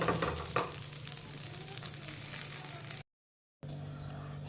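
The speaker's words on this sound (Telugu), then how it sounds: "ఇక్కడైతే దోశ వేసేసుకుంటున్నాను" Dosa batter sizzles steadily on a hot pan in a home kitchen, a dense continuous crackle that cuts off briefly to silence, then resumes.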